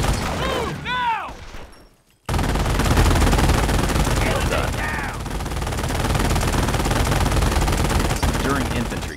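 Automatic gunfire rattles in Company of Heroes, a dense rapid burst after a short pause, loud and close and continuing under battlefield noise, with voices talking over it at moments.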